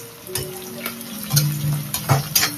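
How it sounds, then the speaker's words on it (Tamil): Mixed vegetables such as cabbage, carrot and capsicum sauté in a pan for noodles, a soft sizzle broken by several sharp scraping and clinking strokes of a spatula stirring them, close by and without speech. "இது கொஞ்ச நேரம் வதங்கணும்"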